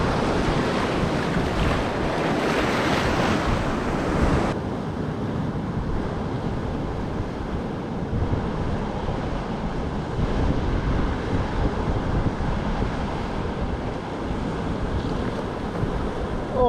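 Sea surf and gusting wind on the North Cornwall shore, waves washing in with a continuous roar and heavy wind buffeting the microphone, strongest in the first few seconds before settling into a steady rush.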